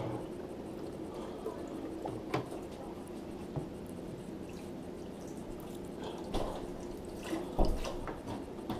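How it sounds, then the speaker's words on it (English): Fresh water rinsing a Scotsman CU1526 ice maker gives faint drips and trickling over a steady low background hum, with a few small clicks and knocks scattered through. "I'm going to start rinsing everything out with a little bit of fresh water"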